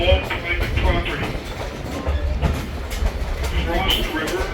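A Blue Ridge mountain excursion train running on its tracks, a steady rumbling roll with rhythmic rail clatter heard from on board, continuous and fairly loud throughout.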